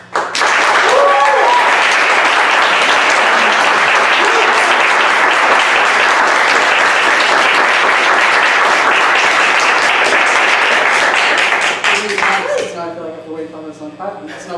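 A live audience at a poetry performance breaks into loud, sustained applause that fills the room for about twelve seconds, then fades while voices and other sounds take over at the end.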